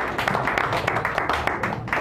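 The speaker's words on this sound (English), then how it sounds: "Give another round of applause." Audience applause at a poetry open mic in a San Francisco cafe, a dense, steady wash of clapping from a crowd that keeps going for the full stretch, with a few voices mixed in.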